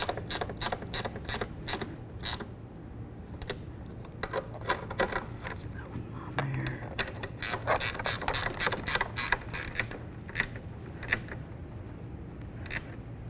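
Ratchet wrench snugging up the side mirror bolts on a 2005-14 Ford Mustang, a steady run of close, rapid clicking strokes with short pauses between bursts.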